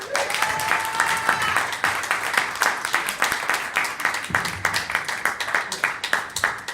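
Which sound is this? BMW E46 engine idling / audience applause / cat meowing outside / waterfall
audience applause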